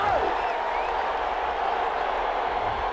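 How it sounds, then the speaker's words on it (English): A stadium crowd roars in Madden 21 during a simulated Chicago Bears versus New Orleans Saints wild card game after a penalty flag, a steady broad wash of crowd noise at fairly loud level throughout. "Well, the crowd doesn't like that."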